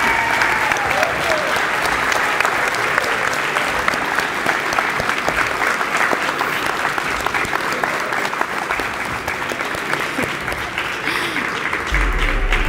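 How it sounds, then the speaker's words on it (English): Sustained applause from a standing audience at a college signing ceremony, a steady dense clapping that fills the room at full volume from start to finish. "Mr. Aiden Lopez, Wharton College Pioneers, one last round of applause."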